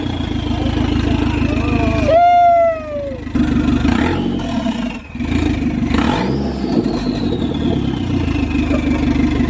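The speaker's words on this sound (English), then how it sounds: "all you hear is turbo" Turbocharged Chrysler PT Cruiser GT engine with a catless downpipe revving loudly and repeatedly, with rising and falling turbo whistle and spool whine over a heavy exhaust drone, close by, with a brief excited shout.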